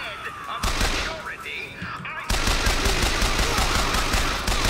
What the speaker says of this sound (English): This gun is very slow to shoot compared to the machine gun.